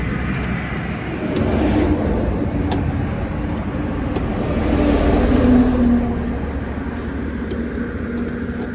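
A car on a Kolkata to Puri road trip pulls away again after a punctured tyre is swapped, its engine giving a steady, loud drone that swells slightly as it moves off, with no talk over it.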